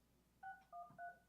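Three short telephone keypad dialing tones beep in quick succession, faint against a quiet room.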